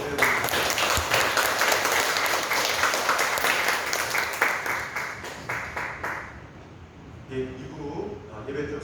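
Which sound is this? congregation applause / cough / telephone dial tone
congregation applause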